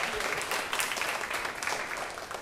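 A church congregation applauds to welcome their pastor at a Sunday afternoon revival lecture: a steady, moderately distant wash of many hands clapping for a couple of seconds, with no voices standing out.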